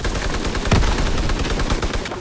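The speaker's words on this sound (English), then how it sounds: "there's someone sniping" Rifle fire in the World War II shooter Call of Duty: WW2, a dense run of sharp shots with one heavier crack near the middle, set against a constant battlefield din and no talking.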